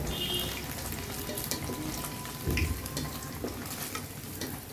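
Salted paneer pieces fry in oil in a wok with a quiet, continuous crackle. Soft stirring scrapes and a brief clunk come midway.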